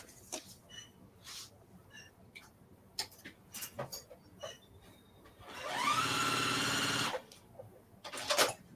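Tote bag fabric is prepared with scattered ticks and handling clicks, then a sewing machine runs in one steady, buzzing burst of about a second and a half before stopping.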